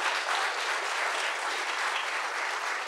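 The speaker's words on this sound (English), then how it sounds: "I just want to applaud them for what they've done and for coming out here for us" A forum audience breaks into steady, even applause, a continuous wash of clapping from a large crowd heard at a moderate distance with no voices over it.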